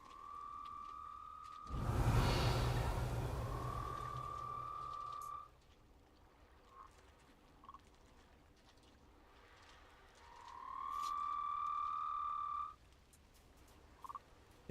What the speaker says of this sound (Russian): О, жабы.